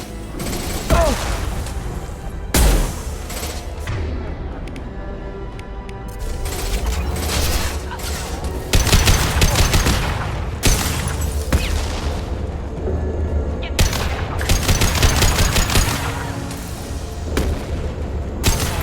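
Gunfire and explosions in the video game Mass Effect 2, with repeated heavy shots, booms and blasts in dense bursts over a rumbling background of combat noise.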